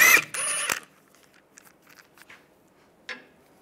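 A 17 mm socket on a ratchet wrench loosens the lug nuts on a 1998–2010 Volkswagen Beetle front wheel. Brief loud mechanical rasps open the clip, followed by quiet scattered clicks and a final short ratchet burst near three seconds.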